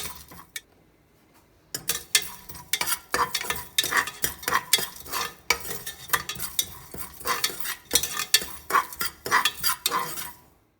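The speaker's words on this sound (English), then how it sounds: "It takes about a minute or so to dry roast these ingredients" Whole spices dry roast in a hot pan while a spoon stirs them, making repeated scraping and light clinking strokes at a lively, uneven rhythm after a quiet start, fairly close and without talk.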